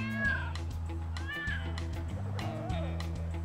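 A house cat meows repeatedly in rising, drawn-out calls over a steady low electronic hum, fairly close and clear, with a faint voice in the background.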